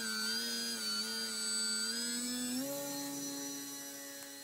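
A Telink SU-29 Sequoia RC airplane flies on an electric motor, its steady high-pitched whine holding, then shifting up in pitch and slowly fading as it moves off, with no talking.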